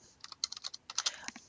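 Quick bursts of clicking keys on a computer keyboard, about a dozen light taps in uneven rhythm, quiet and close with no voice.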